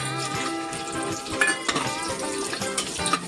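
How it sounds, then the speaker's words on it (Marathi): Bay leaf and garam masala frying in hot oil in a pan for a spicy prawn rice dish, a steady close sizzle with a few utensil clinks and stirring scrapes, no talking. "तेल टाकलंय आणि आता आपण याच्यामध्ये तेजपत्ता टाकतोय आणि त्याचबरोबर गरम मसाले"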